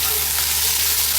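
Beef sizzles and fries steadily in hot oil with garlic in a pan, a dense, continuous crackling hiss that is loud and close.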